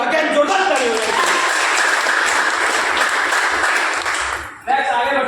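A seated audience at a business-plan meeting bursts into loud, sustained applause, many hands clapping together for about four seconds before it drops off and briefly picks up again.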